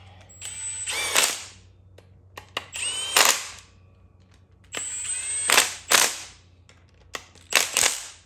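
Power tool tightening the oil pump bolts on a Honda K24 engine, with four separate bursts of close, sharp ratcheting whirs, each starting with a high whine and separated by short pauses with faint clinks.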